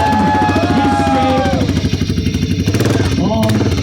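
A Harley-Davidson X440 motorcycle idles with a steady, loud mid-range engine throb and mechanical clatter at a custom bike show, with crowd noise and voices around it.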